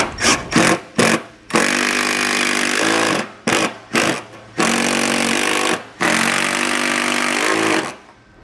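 A power drill drives screws into the hinges of MORryde StepAbove RV steps on a 2018 Jayco Jay Flight travel trailer. It runs in loud, close whirring bursts: several short pulses, then longer sustained runs that rise in pitch and stop abruptly.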